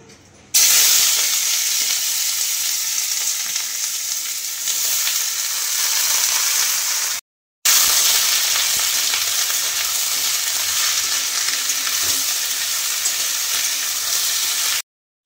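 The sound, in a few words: potatoes and long beans frying in pan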